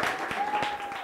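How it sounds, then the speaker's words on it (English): Brief applause from an audience at an arts career talk welcoming a speaker, a short burst of clapping with a faint tone running underneath. "please give a round of applause for Camille Turner"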